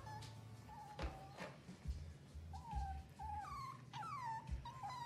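A dog barks in short bursts and lets out rising, wavering whimpers and whines in between, fairly close and clear indoors, with no speech over it.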